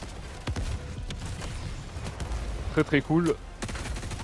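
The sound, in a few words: assault rifle gunfire in the video game Helldivers 2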